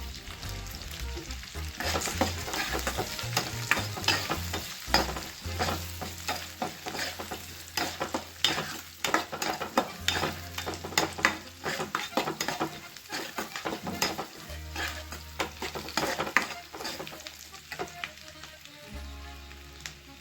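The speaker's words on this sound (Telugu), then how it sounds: "ఇప్పుడు శనగపప్పు వేసుకుంటున్నాను" Chana dal fries and sizzles in a pan for a peanut chutney. It is stirred with steady scraping and clinking of a utensil, and a background tone comes and goes. There is no talking.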